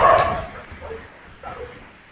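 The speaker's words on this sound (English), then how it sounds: "It sounds like a ton of dogs." A pack of dogs barks and yips in the background, a loud burst at first and then scattered fainter yelps and whimpers behind a speaking voice.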